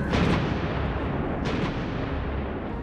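A coastal artillery battery at Omaha Beach fires out to sea: two loud, heavy booms about a second apart, each rolling into a long rumbling echo that fills the whole stretch.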